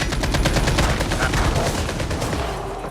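Rapid gunfire in a video game, sniper shots ringing out in a dense, loud, continuous burst of repeated cracks with little pause between them.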